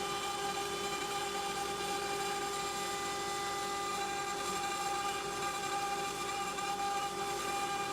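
A CNC machine carves melamine-laminated MDF with a steady, faint high-pitched tonal whine that holds unchanged throughout, with no voices.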